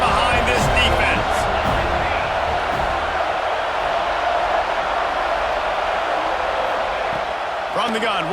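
A stadium crowd in a video football game roars for a big third-down defensive stand, a loud, dense, sustained wall of cheering that holds steady throughout, with a commentator's voice over it near the end.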